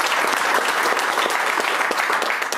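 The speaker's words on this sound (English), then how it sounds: "So big applause on that." A crowd claps loudly and steadily in the CSKA basketball locker room after a win, a dense, continuous burst of applause with no voices standing out.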